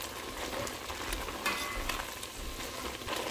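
Garlic ginger paste is stirred into frying beef korma with powdered spices, a soft continuous sizzle broken by irregular scraping spoon strokes, close and fairly quiet, with no voices.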